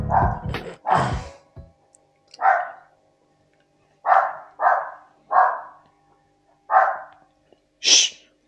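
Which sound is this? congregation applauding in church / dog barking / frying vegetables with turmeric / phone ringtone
dog barking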